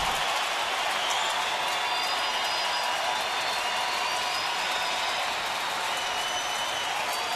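A baseball stadium crowd during a game in Houston, a steady faint wash of distant cheering and applause with no distinct peaks, heard alone.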